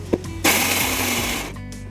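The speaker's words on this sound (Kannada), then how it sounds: "ಮತ್ತು ನಾನು ಮಿಕ್ಸಿಗೆ ತೆಂಗಿನಕಾಯಿ ಹಾಕ್ಕೊತಾ ಇದ್ದೀನಿ" A mixer grinder runs a short burst on coconut, a loud whirring roar lasting about a second after a faint click, then cutting off.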